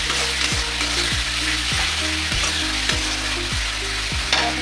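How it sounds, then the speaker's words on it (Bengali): Ginger-garlic paste sizzles and fries steadily in a pan for chicken curry, with a spoon scraping and stirring through it in repeated rhythmic strokes, close and fairly loud throughout. "আদা রসুনটা একটু নেড়ে চলে দিই, কাঁচা মশলা চলে যায়।"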